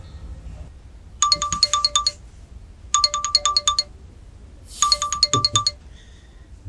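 A phone ringtone sounds three times during an outgoing call, each ring a bright burst of rapid repeated electronic chimes lasting about a second, separated by short quiet gaps, close and clear with no talking.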